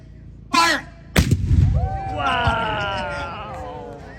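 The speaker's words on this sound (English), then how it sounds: "You guys ready for another cannon fire?" A cadet 6-pounder cannon from 1841 fires at a gun show demonstration, giving one huge close boom that rolls into a long rumble, followed by a crowd cheering and shouting; a voice calls out just before the shot.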